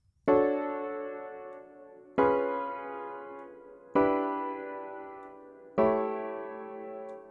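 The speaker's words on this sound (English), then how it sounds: "now the chord progression sounds like this" Four sustained keyboard chords struck one after another at an even, slow pace, each ringing and fading before the next, with no talking.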